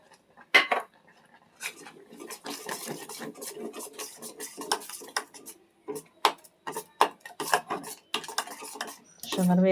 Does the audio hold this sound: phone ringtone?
no